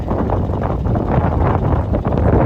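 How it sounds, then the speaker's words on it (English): Strong wind buffeting across a farm paddock in wet weather, a loud steady roar with gusty rumble that carries on without a break. "she's fairly windy"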